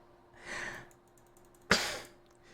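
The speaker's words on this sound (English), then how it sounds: "it made me cough horribly" Two short coughs, a soft breathy one followed by a sharper, louder one, close and quiet, with near silence around them.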